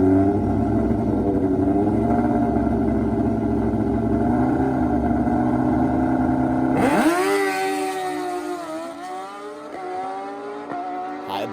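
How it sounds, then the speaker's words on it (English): A nitrous Suzuki Hayabusa and a BMW S1000RR with a Brock's exhaust and ECU flash drag race, engines roaring loud and steady, then the note drops and engine pitch sweeps and rises again through rapid gear shifts as the bikes pull away down the strip. "Here comes that BMW making power."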